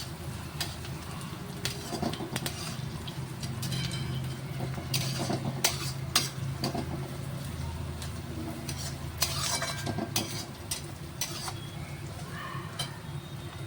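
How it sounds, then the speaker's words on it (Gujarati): Onions fry in a pan for a dal fry and jeera rice dish. A soft, continuous sizzle runs under repeated scraping and stirring clatters from a spoon against the pan, with no voices. "ડુંગળીને બી થવા દઈશું જ્યાં સુધી ગુલાબી રંગની ના થાય ત્યાં સુધી."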